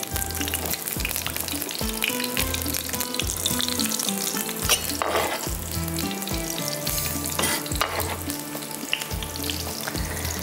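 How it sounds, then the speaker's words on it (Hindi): Fish fries in hot oil in a pan, a loud continuous sizzle and crackle with rhythmic low thumps and stirring noises running through it, close and busy. "ये मछली फ्राई हो जाएगी"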